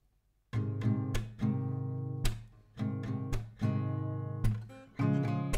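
Acoustic guitar chords strummed two rounds per chord for a song, each chord ringing out before the next change, close and clear with no voices.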